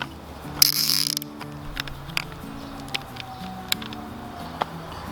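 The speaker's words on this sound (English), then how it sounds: "Got our clamp on there to tighten it down" A hose clamp is ratcheted tight on Bestway pool vacuum tubing, giving a close, sparse series of sharp mechanical clicks over a faint steady background tone.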